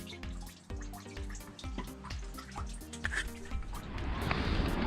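Coolant dripping from a radiator removed from a 1945 GPW jeep, a rapid run of close, loud drips and splashes into liquid that thickens toward a steadier trickle at the end.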